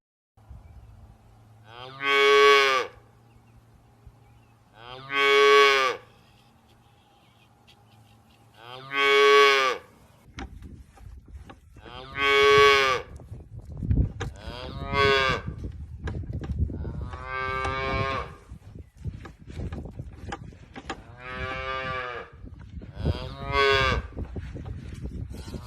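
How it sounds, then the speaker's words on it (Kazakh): A calf moos loudly about eight times at steady intervals, each call drawn out and close, while a noisier farmyard background rises during the later calls. "Бұзау."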